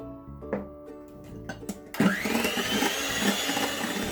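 An electric mixer churns cookie dough, kicking in loudly after a couple of seconds of scattered clinks and handling noises, then whirring on steadily.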